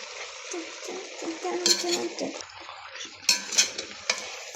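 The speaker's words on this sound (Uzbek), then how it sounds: "Endi esa aralashtirib olamiz." Food is stirred in a hot frying pan, a steady sizzle of frying under scraping and clinking strokes of a utensil against the pan, with sharper metallic bursts near the middle and end.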